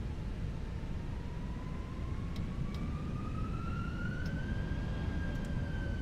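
Jet airliner engines in Microsoft Flight Simulator 2024 give a steady, loud broadband roar, with a high whine that climbs slowly in pitch as they spool up, heard alone throughout.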